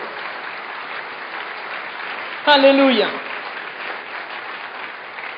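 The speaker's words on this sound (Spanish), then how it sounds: "Dale un fuerte aplauso al Señor" A church congregation applauds the Lord during a sermon, a steady muffled clapping wash that runs throughout, briefly overlaid midway by a single shouted exclamation from one voice.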